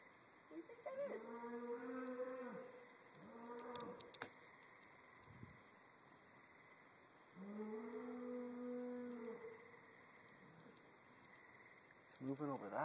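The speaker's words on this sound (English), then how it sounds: "Well, that's a cow." Cow mooing outdoors, two long drawn-out lowing calls a few seconds apart, moderately distant, with a faint bark and a brief knock between them.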